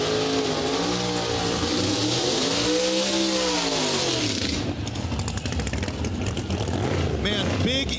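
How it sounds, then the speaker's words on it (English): A nitrous-fed big-inch Chevy Nova launches at a drag race. Its engine drones loudly with sweeping revs, then bursts into a harsh, crackling roar off the line, with an announcer talking over the noise. "big inch nitrous power for Jimmer Klein in this thing."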